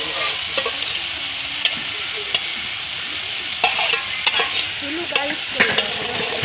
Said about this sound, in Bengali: এখন মাংস ঢেলে দিলাম।